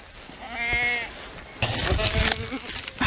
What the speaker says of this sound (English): You're a good looking sheep, mate.